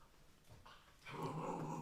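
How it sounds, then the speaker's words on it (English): A dog growls low and faint, a short rumbling snarl that rises into a louder, sustained growl with a whimpering edge toward the end, heard alone indoors. "Why are you growling at me?"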